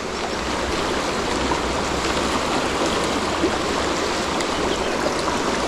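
A mountain trout river in La Rioja, the Iregua or Najerilla, rushes past at close range with a dense, steady roar of flowing current and no letup.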